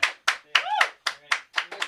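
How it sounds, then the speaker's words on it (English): Sparse, rhythmic clapping from a small open-mic audience, about eight separate sharp claps at a steady pace, close and fairly loud, with faint vocal sounds mixed in. "A round of applause for Lee."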